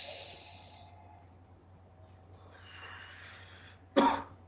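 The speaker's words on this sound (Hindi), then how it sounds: "जब आप सांस छोड़ रहे हैं उसके पीछे कफिंग भी कर दी, खांसने की कोशिश करी, जैसे मैं आपको दिखाऊं" A forceful cough during a physiotherapy breathing demonstration, following a long, faint breath. It comes as a single sharp burst near the end of a quiet passage.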